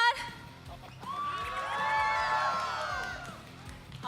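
A crowd at a Mobile Legends: Bang Bang esports grand final cheers and whoops loudly, a swell of shouts and high-pitched yells that rises and then fades slightly.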